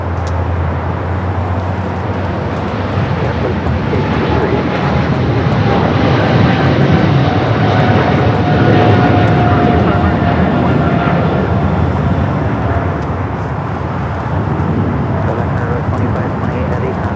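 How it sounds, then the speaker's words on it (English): A China Southern Cargo Boeing 777 freighter rolls down runway 25 Right at LAX for takeoff, its engines a loud, broad, sustained roar that swells slightly mid-way, with talk over it. "China Southern Cargo, the 777 freighter, rolling down at 25 at right"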